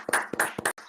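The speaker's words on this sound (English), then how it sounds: "let's give him a round of applause too" Conference attendees clap for a presenter with a short run of distinct, closely spaced hand claps that sound sparse rather than a full roar. No one talks.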